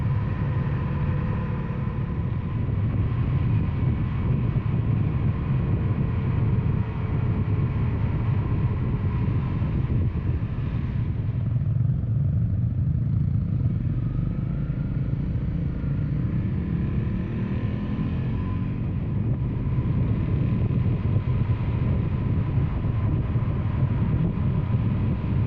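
A small Honda motorcycle descends a long mountain pass on the road to Lhasa in Tibet, its engine a steady low drone under constant wind rush, with slight shifts in tone as it rolls downhill.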